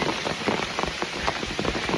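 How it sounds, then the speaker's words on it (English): Steady rain patters densely on a surface during a storm on a hiking trail, a constant hiss of drops with scattered louder splats, close and continuous throughout, after strong wind. "Oh yeah, it's raining."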